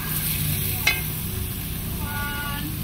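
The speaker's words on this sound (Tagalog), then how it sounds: "Haluin uli natin para yung bawang manunot sa laman ng native chicken tinola." A spoon stirs native chicken tinola with garlic in a simmering pot, giving a steady bubbling hiss and one clear clink of utensil against the pot.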